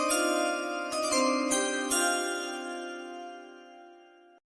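Several bright chime strikes ring out in quick succession, then one sustained tone hangs and slowly fades before cutting off, clear and close with no voices.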